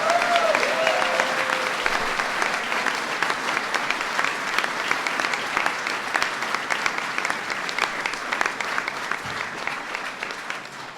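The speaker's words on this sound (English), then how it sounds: "Please give them a big round of applause." Big round of applause from guests at a St. Patrick's Day event at the White House, dense sustained clapping from a large crowd that continues evenly, easing slightly near the end.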